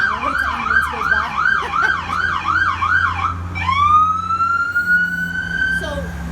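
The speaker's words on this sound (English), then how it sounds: "Hold on, we'll wait till ambulance goes by." An ambulance siren passes close by, loudly wailing in a regular rising-and-falling cycle before switching to a single long tone that swells and then fades away.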